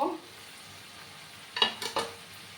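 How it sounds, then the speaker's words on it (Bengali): Potato and pumpkin pieces being stir-fried together in a pan for a vegetarian curry, a low sizzle broken by a few quick scraping and stirring strokes near the end. "এবার আমি কুমড়োর আলুগুলো দিয়ে দেব"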